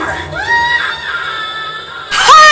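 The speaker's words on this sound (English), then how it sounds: "He screams like my brother!" A character in the video game 007 Legends lets out a loud, high, wavering scream, with a sharper shriek bursting in near the end.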